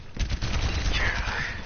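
Pistol fire in an Overwatch match: a brief, dense flurry of shots and blasts, fairly loud, mixed with game effects and a voice.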